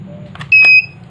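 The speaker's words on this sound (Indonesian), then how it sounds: "Nah, langsung terdengar suara bip." A Polytron washing machine with an E8 error gives a single electronic beep, a bright steady tone lasting about a quarter second, rising over a low background hum.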